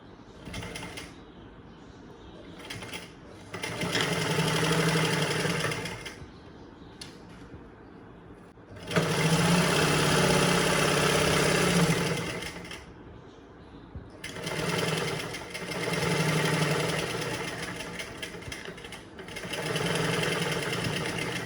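A sewing machine stitching fabric for a boat neck blouse runs in loud, close bursts of rapid needle clatter, stopping and starting several times with short quiet pauses between runs.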